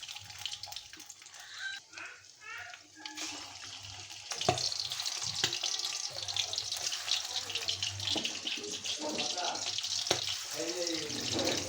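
Boal fish heads are dropped one at a time into hot oil and fry with a steady, hissing crackle and occasional pops, close by, while a person talks intermittently.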